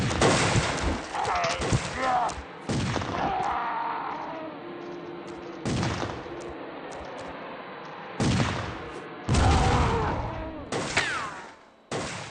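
Gunfire and a grenade blast crash out in a dinosaur hunting video game, loud bursts and explosions broken by brief gaps, with a player talking in places.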